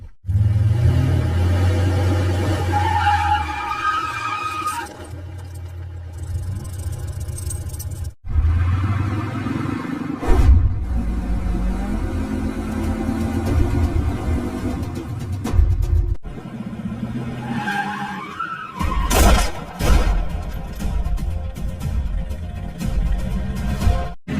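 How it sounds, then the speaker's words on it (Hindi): A car pulls away and drives off, its engine rumbling and rising, with scene cuts and whooshing passes over a steady loud background. "निकालो गाड़ी और चलो पुलिस स्टेशन"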